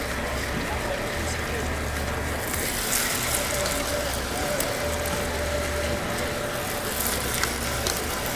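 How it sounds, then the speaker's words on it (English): A Green Power KPE-1304 twin gear juicer crushes wheatgrass, giving a loud, steady mechanical grinding and whirring with a low rhythmic churn, close by, with no break. "So this is the best twin gear juicer to juice wheatgrass, in my opinion."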